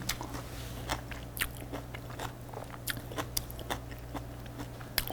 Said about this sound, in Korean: 여기에 샐러드를 한번 먹어보도록 하겠습니다